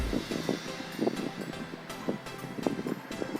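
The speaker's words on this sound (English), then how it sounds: "Sorry about all the wind and all the noise" High wind buffets the microphone outdoors near where a military plane is trying to land: a steady, rumbling roar with uneven gusty swells throughout and no voices.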